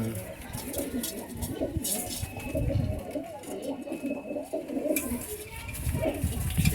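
A male white pigeon coos in soft repeated pulses close by, with other pigeons murmuring around it in a busy loft and faint background voices.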